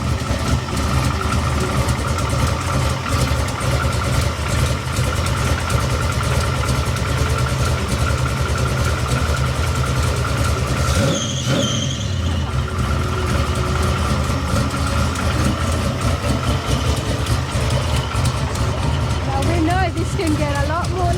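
Ford F100 pickup at a truck show idling with a deep, steady rumble close to the microphone, a brief revving swell near the middle, and people talking over the engine.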